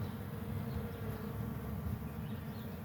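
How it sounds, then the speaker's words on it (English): Honeybees buzz steadily at an opened hive during a February inspection, a dense, continuous hum close by with no talking. "there's a bee carrying a big load of pollen in there"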